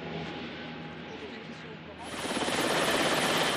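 A French military helicopter flies over Mali, its rotor noise swelling into a loud, dense roar about halfway through while a voice talks over it.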